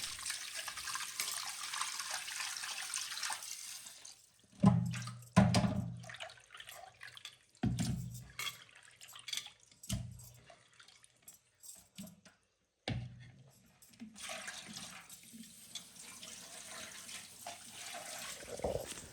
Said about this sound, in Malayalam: അപ്പോൾ ഇതാ മത്തി നല്ലോണം കഴുകി വൃത്തിയാക്കി എടുക്കുന്നുണ്ട്.